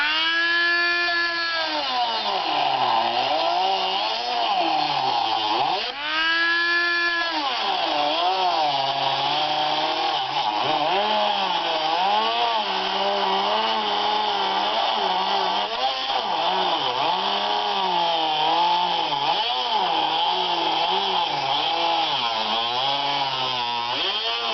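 A power saw with a slightly worn blade grinds steadily through a 1.25 inch parallel slot pool deck drain, loud and close, its pitch dipping and rising as it bites into the metal for the whole stretch.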